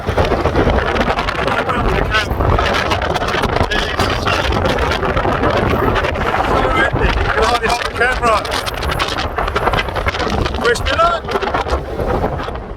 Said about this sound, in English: You can hear it rustling through these gaps, the wind blowing through the cross.